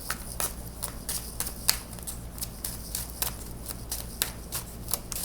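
Tarot cards being shuffled in quick repeated riffles, a steady run of crisp papery bursts up close with no speech over them.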